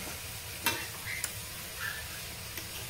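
Sausage and spam fry in a pan with a steady, fairly quiet sizzle and a few soft utensil taps and scrapes, nobody speaking.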